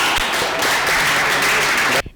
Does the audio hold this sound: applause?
yes